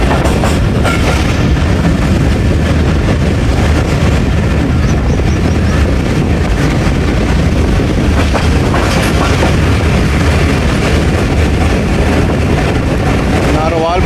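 The 13 Up Awam Express passing Badami Bagh near Lahore, heard from on board as a loud, continuous rumble of rolling wheels and rattling carriages with steady clatter throughout.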